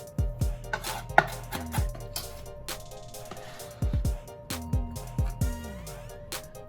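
A knife chopping vegetables on a board, a run of sharp, irregular thuds, some in quick bursts and others spaced apart, close and clear with no talking over them.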